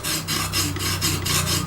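A knife blade rasps back and forth against an Exduct E0931D sharpening stone oiled with 3-in-1 oil, a loud, close, rhythmic scraping of about seven strokes with no voices.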